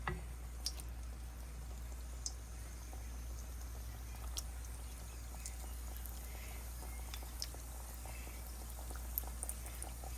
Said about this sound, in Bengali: সেই জন্য একটু মিডিয়াম হিটে এই এই পিঠাটাকে ভাজতে হবে।